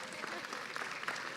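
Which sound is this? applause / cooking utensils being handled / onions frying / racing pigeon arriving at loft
applause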